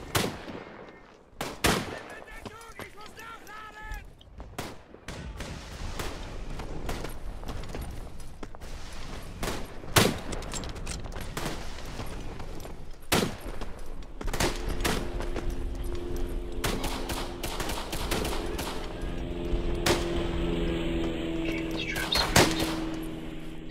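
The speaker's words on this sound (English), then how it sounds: "Someone's shooting at me." Dense WWI gunfire in Tannenberg: rapid rifle cracks and machine-gun bursts, some close and loud, others farther off, continuing without pause over a rumbling battlefield.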